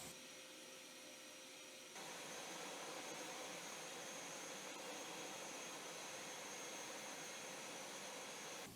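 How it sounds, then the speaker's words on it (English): A jigsaw cuts bolt slots into a jointer-planer fence, a loud steady buzzing whine that runs continuously and alone, with no talking over it. "Now I'm just using the jigsaw to cut out the slots into which the bolts will go"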